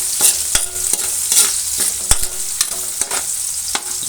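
Garlic frying in a pan with a bright, steady sizzle, cut by regular scraping knocks as a spatula stirs it; close and fairly loud, without speech.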